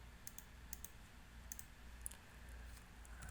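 Computer mouse clicks while working in Civil 3D software, a handful of light, crisp clicks spaced irregularly and heard close up over a quiet room hum.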